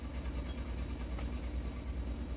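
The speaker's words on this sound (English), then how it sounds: "My washing machine is running, that's why you can hear that noise." A household washing machine runs in the background, giving off a steady low droning hum with a faint rhythmic throb, constant and moderately quiet throughout.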